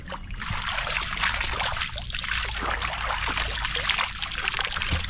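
Clear water trickling and splashing steadily in a village setting, a continuous bright gurgling flow heard close by without talk.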